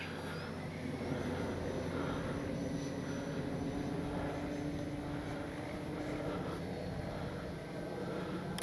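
A Kavan Pulse 2200 RC airplane flying at full speed, a steady distant engine drone that holds evenly throughout at a fairly low level with no talking over it.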